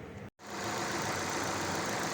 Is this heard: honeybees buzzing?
no